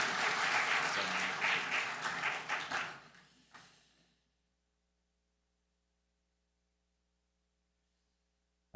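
A church congregation at a Korean Baptist Sunday service in Orlando claps to welcome a pastor, dense applause fading out over a few seconds before falling to near silence.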